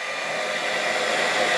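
A travel-size blow dryer powered by a Bluetti EB70S portable power station runs on low fan with high heat, giving a close, steady airy whir and hiss with no voices.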